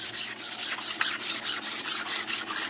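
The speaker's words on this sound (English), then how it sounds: "lightly rub" Guide coat is lightly rubbed over the body surface of a 1979 Ford F150 truck under restoration, producing quick, rhythmic, scratchy back-and-forth strokes, close and even, with no talking.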